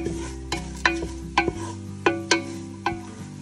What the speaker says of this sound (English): We're gonna toast up the red onions